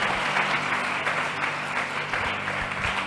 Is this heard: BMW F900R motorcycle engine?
no